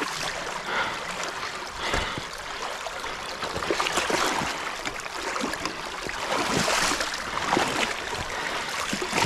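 Water rushes and gurgles steadily nearby, a continuous creek flow with splashy bursts and no talking.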